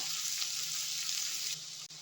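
Onions and green chillies frying in a pan, a soft continuous sizzle with bright crackle, fairly quiet and steady, with a brief stirring scrape near the end.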